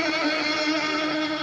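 Pro Boat 1/12 scale RC hydroplane on water, nitro engine with a freshly bored-out carburetor buzzing in a steady high-pitched whine, close and constant through the brief moment.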